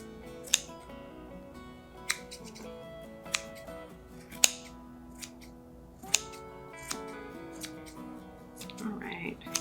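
Scissors snip around a craft pumpkin being trimmed for a fall garland, giving a series of crisp, separate cuts spaced a second or so apart beneath a speaking voice and background music.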